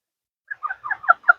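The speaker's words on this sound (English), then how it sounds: "I'm not really sure on type of bird." A pet bird calls indoors in a quick run of five or six short, chirping notes that grow slightly louder toward the end, close by and alone after a moment of silence.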